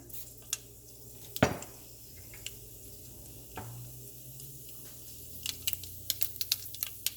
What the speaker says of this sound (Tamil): இதில் 1 டேபிள் ஸ்பூன் கடுகு போடுறேன்